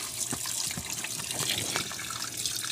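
Tap water runs steadily over raw pork being rinsed in a sink for pork steak, a close, continuous splashing stream with small irregular spatters and no voices.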